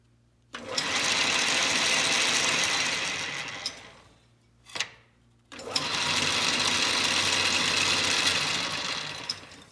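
A 1914 South Bend treadle-powered metal lathe runs with a steady mechanical whir and rattle, slowing briefly to a stop with a sharp clack partway through, then spinning back up to the same even hum.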